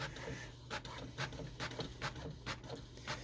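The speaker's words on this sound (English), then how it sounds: "it's printing out perfect black ink using the 3 colors that it has in that color cartridge" An HP Officejet 100 Mobile printer prints a test page, giving a steady mechanical hum under a run of evenly spaced, quiet clicks from the print head, close by.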